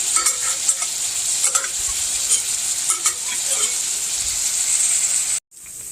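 Ground beef with diced chilies sizzles and fries steadily in a skillet for a tamale pie, a loud continuous hiss with light stirring scrapes, cutting off abruptly near the end.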